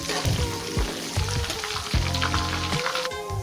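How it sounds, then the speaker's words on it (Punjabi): Garlic frying in a pan until light brown, with a steady close sizzle and crackle and a few soft stirring knocks. "ਅਸੀਂ ਜਿਹੜਾ ਲਸਣ ਜਿਹੜਾ ਜੀ ਲਾਈਟ ਬ੍ਰਾਊਨ ਭੁੰਨਣਾ ਹੈ ਜੀ"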